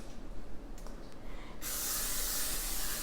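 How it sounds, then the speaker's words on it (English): Cooking spray hisses from an aerosol can onto a baking sheet for homemade English toffee, a steady broadband spray starting midway and continuing to the end, fairly close, with quieter kitchen handling before it and no talk. "get a baking sheet, and you just spray it with some cooking spray"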